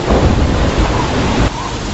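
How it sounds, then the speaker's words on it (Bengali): Heavy rain pours as a sound effect in an animated story, with a loud, dense, continuous roar of downpour and a deep rumbling undertone that eases slightly near the end. "ঝমঝম করে বৃষ্টি নামলো বাইরে।"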